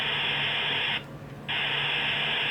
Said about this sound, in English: or just hearing the white noise